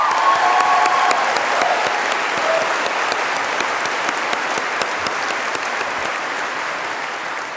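A large graduation audience in a hall applauds in a dense, loud, steady wash of clapping that fades slightly toward the end.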